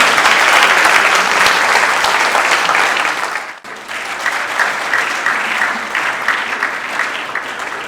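Listeners at a university mushaira applaud loudly, the clapping dipping briefly midway before swelling again into a steady, rhythmic ovation.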